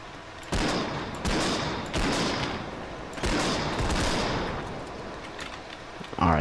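Gunfire in a live-streamed video game, several loud distinct shots spaced about a second apart, each with a long reverberant roll-off, followed by a fading rumble.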